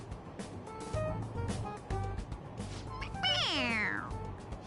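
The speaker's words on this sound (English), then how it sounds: "It meows when you press on its head." A toy cat meows when its head is pressed: a clear, close electronic meow with a falling pitch near the end, preceded by rustling and handling noises.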